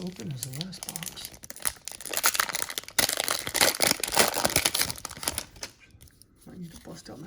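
Foil wrappers on 1991-92 Skybox Series II basketball card packs being torn open by hand, with loud, close crinkling, crumpling and tearing that comes in bursts and stops briefly near the end, a voice speaking now and then.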